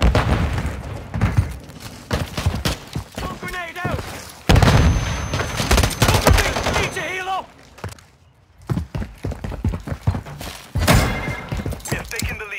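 Stun grenade bursts and rapid gunfire in a Modern Warfare 3 hardcore multiplayer match, with loud repeated booms and shots, a brief quiet gap midway, and radio-style callouts from characters throughout.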